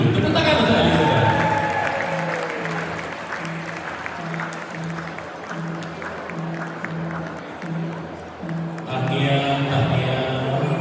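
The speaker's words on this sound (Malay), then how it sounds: "Tepuk tangan untuk Elizabeth." Audience applause for an award winner at a ceremony, a steady wash of clapping from a crowd that swells again near the end, with a voice over the PA and music-like tones underneath.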